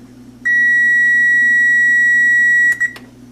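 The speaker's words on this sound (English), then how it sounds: "the timer's gone off" A kitchen timer goes off during cheddar cheese curd making: one long, loud, steady electronic beep holds for about two seconds, then breaks into a couple of short stuttering beeps over a low background hum, with no talking.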